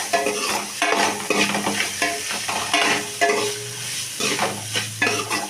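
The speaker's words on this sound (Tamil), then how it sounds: "உப்பு போட்டு நல்லா கிண்டிக்கலாம்." Potatoes sizzle in a hot pan with salt while a utensil stirs and scrapes through them in repeated strokes, with no talking.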